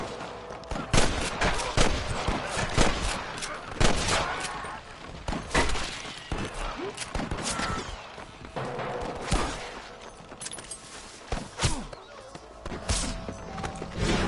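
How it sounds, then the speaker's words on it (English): Rapid bursts of gunfire in a Red Dead Redemption shootout, many sharp overlapping shots and rattling volleys across the whole stretch, loud and close, with some voices mixed in. "I can hear more gunshots."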